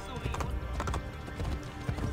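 A horse's hooves clip-clop in Assassin's Creed: Brotherhood, with an apparent whinny, under game music and ambient sound over about two seconds.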